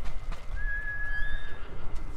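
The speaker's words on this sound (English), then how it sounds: "So what should I name this horse" Horse in the Ghost of Tsushima video game gives a single clear whinny lasting about a second, a rising then held neigh heard over low background game ambience.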